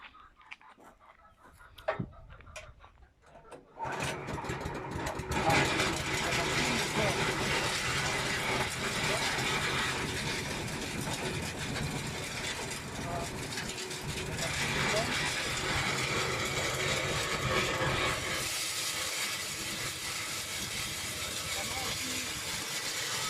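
A home feed grinding machine milling maize for chicken feed starts up after a few seconds of quiet clatter, then grinds with a loud, dense, continuous roar that holds steady to the end.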